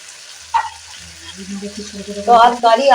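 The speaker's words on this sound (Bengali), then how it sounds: "গাজর ভাজা হয়" Carrots fry in a pan alongside potatoes and onions, a sizzle that builds and grows louder toward the end, mixed with voices and other kitchen sounds.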